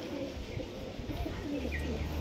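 A high flyer pigeon coos softly at a Liluah home loft in Howrah, with low, faint murmuring calls against quiet background hiss over a couple of seconds.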